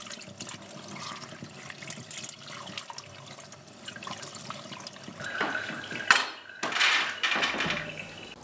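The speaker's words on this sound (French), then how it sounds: "Puis on rince à l'eau." Tap water runs over scooped squash seeds being rinsed, a soft continuous splashing that swells and gets louder with sloshing bursts toward the end.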